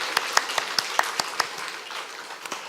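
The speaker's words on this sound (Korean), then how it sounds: "우리 크게 박수하겠습니다." Light, scattered clapping from a small group at a Wednesday mothers' prayer meeting in a church, about a dozen distinct claps spread unevenly and thinning out toward the end.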